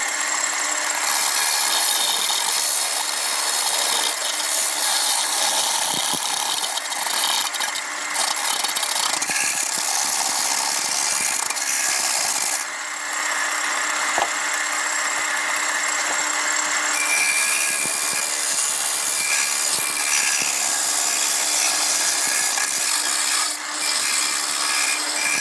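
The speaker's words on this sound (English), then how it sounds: "particularly the wheel for grinding down the acrylic" A rotary tool grinds against acrylic with a loud, steady high-pitched whir and scraping, continuing with small shifts in pitch and no talking.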